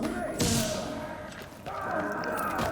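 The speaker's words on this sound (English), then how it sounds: "right where I'm throwing this grenade" A grenade thrown in The Division video game lands with a dull thud and a short whoosh, followed by a second muffled impact, while someone talks over it.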